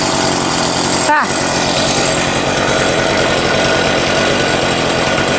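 A small garden tiller engine fires up and settles into a loud, steady rattling idle, with a brief exclamation from a man over it.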